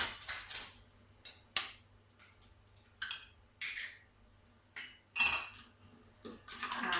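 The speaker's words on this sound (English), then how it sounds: "So I'm just going to mix an egg." Egg mixed with buttermilk in a bowl for Irish soda bread, heard as close, irregular bursts of utensil clinking and scraping against the bowl, separated by short pauses.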